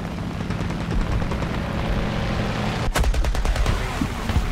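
Aircraft cannon fire of 23 mm armor-piercing rounds in the War Thunder video game, a rapid burst of shots near the end over a steady roar of engine noise, loud and close.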